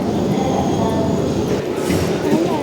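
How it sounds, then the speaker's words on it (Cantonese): Shenzhen Bay metro station with a train, a loud, steady rumble and rushing roar filling the platform, with faint voices mixed in. "好啦，已經去到地鐵站啦。"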